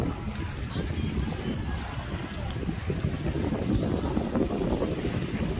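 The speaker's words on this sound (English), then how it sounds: "It's windy, so let's see." Steady wind roars and buffets across the microphone outdoors while a homemade Jamaican-style kite is launched, a constant broadband rumble with gusty low-end thumps throughout, and faint voices come through now and then.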